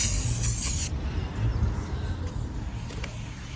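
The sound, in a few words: brake cleaner sprayed on brake rotors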